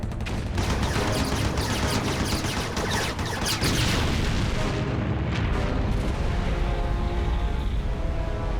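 Gunfire and explosions rage through an animated battle as a dense, continuous roar of shots and booms, loud and sustained with no talk.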